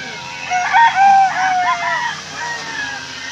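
A rooster crows loudly and close among fighting cocks, its call rising and holding for about two seconds, followed by softer fowl calls and faint background voices.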